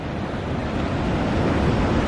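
Ocean waves surge steadily into the St Lucia Estuary, a dense, close roar of surf and rushing water building slightly in loudness, with wind buffeting the microphone.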